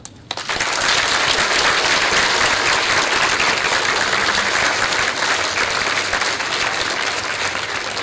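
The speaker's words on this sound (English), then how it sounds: "I really think she deserves a round of applause." Sustained audience applause fills an inaugural academic lecture hall, starting abruptly after a brief pause and holding steady and loud throughout without any talking.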